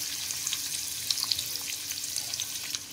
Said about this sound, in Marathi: मी इथं कढई गरम केली आहे आणि त्याच्यात मी अगोदर कांदा फोडणीला टाकते